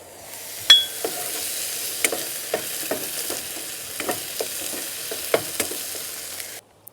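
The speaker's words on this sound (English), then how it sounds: "Just cooking it on our outside stove, as we often do." Steak, salmon and green beans sizzle steadily in a pan on an outdoor camp stove, with scattered metallic clicks and taps throughout. The sizzle stays even and close, then cuts off abruptly.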